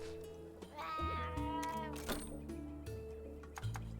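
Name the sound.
cat meowing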